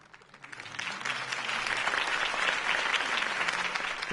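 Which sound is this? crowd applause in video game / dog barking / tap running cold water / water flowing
crowd applause in video game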